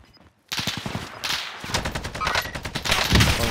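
Automatic gunfire in the video game Warzone Caldera, with an AK47 from the Cold War arsenal, bursts in after a brief silence as loud, rapid, sustained volleys of shots.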